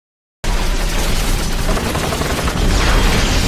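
Dense, continuous rapid gunfire from a helicopter, with booming blasts, fills the whole stretch, loud and chaotic, like an action-scene barrage from above, in a film.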